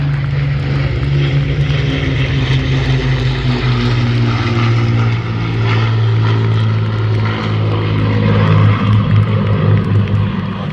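Avro Lancaster bomber's four propeller engines droning steadily during a Memorial Flight air display pass, a loud, continuous rumbling hum with a low harmonic throb holding throughout, no talk over it.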